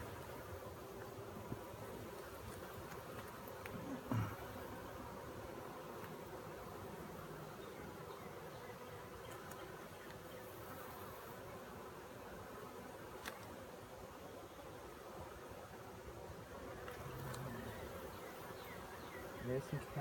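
Honeybees buzz in a steady, low, droning hum during a hive inspection, continuous and fairly faint, with a few soft knocks and handling sounds.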